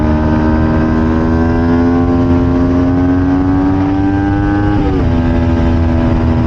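A Kawasaki Ninja 250 FI fitted with a Prospeed Python exhaust holds a steady, loud, close idle-to-high rev, its pitch creeping upward before a brief dip near the end.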